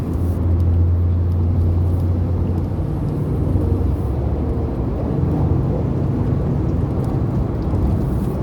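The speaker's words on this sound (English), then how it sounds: "Look at all that traffic on the other side." Road traffic moving on the opposite side of the road makes a continuous, loud rumbling roar of vehicles and tyres that stays steady throughout, with no voices.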